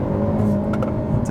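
A 2022 Hyundai Elantra N's engine revs hard on a race track, a steady loud mechanical drone and exhaust note that holds level through the short burst, with no voices.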